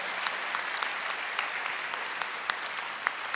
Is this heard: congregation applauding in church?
yes